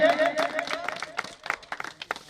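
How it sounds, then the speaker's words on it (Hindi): Applause for a priest at a temple gathering, scattered claps that start fuller under a lingering voice and thin out into sparse, uneven claps, fairly quiet. "जोरदार तालियां पुजारी जी के लिए"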